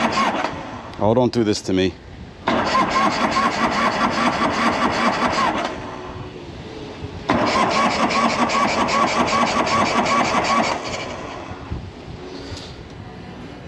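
A 1984 Harley Davidson FLT Tour Glide with an aging ignition system cranks repeatedly with the fuel enrichener on, the starter grinding loudly in long stretches with brief stumbling engine catches, while someone speaks briefly in between.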